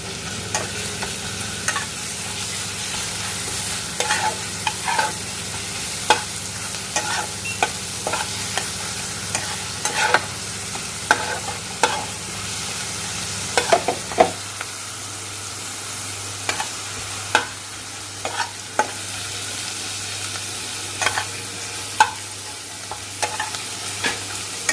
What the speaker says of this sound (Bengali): নেক্সট আমরা রসুন পেস্টটা দিয়ে দিলাম।